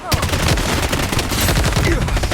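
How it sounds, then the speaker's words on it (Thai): Dual Uzis firing in the Blood Strike shooter game, a dense, loud rattle of rapid automatic bursts that fills the whole moment without pause. "โดนอูซี่คู่"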